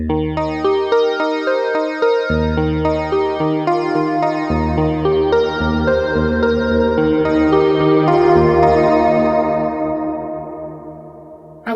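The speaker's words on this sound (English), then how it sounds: "And a pretty sweet reverb." Sustained synthesizer chords from a Knobula Pianophonic ring out with a lush, lingering reverb tail, each note washing into the next before slowly fading at the end.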